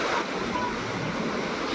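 Strong sea waves surge against a typhoon-battered shoreline, a loud, dense wash of surf and rushing water mixed with wind buffeting the microphone, unbroken through the short stretch.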